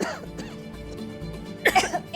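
Coughing from the smoke of a stove fire, a few rough coughs and throat sounds ending in a harsher burst, close by and fairly loud.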